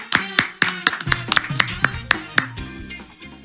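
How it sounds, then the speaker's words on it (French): A small group gives Shabana a brief round of applause on a French midday quiz show; a few sharp, close, distinct hand claps sound in an uneven rhythm, then fade out after about three seconds. "Shabana, applaudissements, s'il vous plaît."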